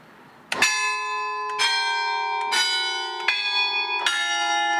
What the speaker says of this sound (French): On va faire un essai de tintement.